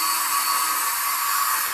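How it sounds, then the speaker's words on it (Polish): Vacuum cleaner noise plays loudly from a phone speaker as a steady, thin, high-pitched whine that stays constant and unbroken, with no talking over it. "będzie to dźwięk odkurzacza odtwarzany z telefonu"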